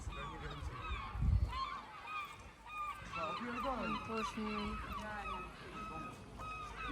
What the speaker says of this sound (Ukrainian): Слухайте просто чайки.